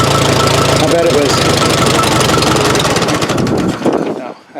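A Case CK 530 backhoe engine runs loud and steady up close, with a rough knocking rumble that holds throughout and tapers off in the final half second.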